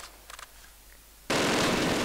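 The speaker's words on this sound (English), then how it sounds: "somebody's firing their machine gun at us" Sustained machine gun fire bursts out loud partway through, a dense continuous roar in the Close Combat game (Wacht Am Rhein), after a few faint clicks.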